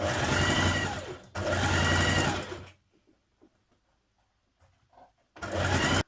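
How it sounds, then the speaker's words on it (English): A sewing machine back-tacks the crotch seam of wide-leg trousers in two loud, close bursts of rapid stitching, followed by a quiet pause with faint handling, then a third burst starts at the end. "I'm just doing a few extra stitches there under the crotch area"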